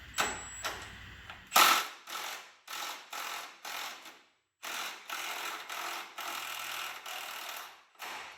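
Ratchet wrench clicks in quick repeated bursts as bolts on the front arms of a 2009 Polaris Sportsman 500 ATV are tightened and loosened, close and fairly quiet, with brief gaps between strokes.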